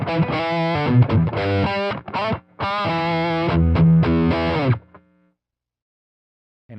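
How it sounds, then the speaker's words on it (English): An electric guitar runs through a Strymon Riverside multistage drive pedal set to high gain with the bass control turned up. Loud, thick distorted chords and riffs play in bursts with brief gaps, then stop abruptly and leave near silence. "let's turn the bass control up as we experiment in some of these higher gain sounds"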